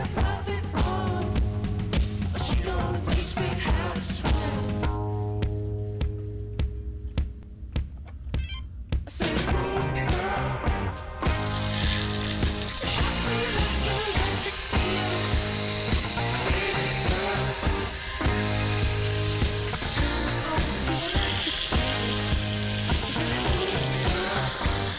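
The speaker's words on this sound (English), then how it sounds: "this is going to be the first test of the motor. This is not going to be with a propeller" Small 3D printed brushless motor running with no propeller, first a rapid stuttering ratchet-like clicking that breaks up and pauses, then a sustained high whirring buzz as it spins up and holds speed.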